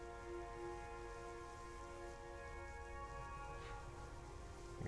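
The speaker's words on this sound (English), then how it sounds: "It's raining again." Steady rain patters continuously in the space-agency strategy game Mars Horizon, falling evenly over a sustained musical drone with no talking.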